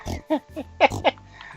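A pig in the video game Stardew Valley grunts and oinks several times in short snorting bursts, close and clear, over a faint steady background tone.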